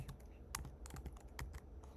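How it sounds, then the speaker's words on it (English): Keys clack on a computer keyboard in irregular quick bursts of individual taps, fairly faint and close, with no talking. "I start typing here"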